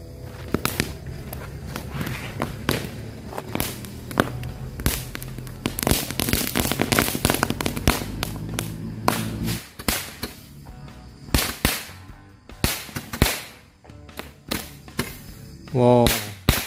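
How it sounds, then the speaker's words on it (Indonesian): Magic Ball firecrackers, a 20-shot type set off for Lebaran, pop in rapid bursts of loud nearby cracks and thumps. The shots come in irregular volleys that keep going, with a whistling shot near the end. "selanjutnya kita nyalain mercon Magic Ball"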